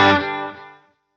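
A single distorted electric guitar chord rings out through an amp, its tone thickened by light delay and reverb before fading away within a second.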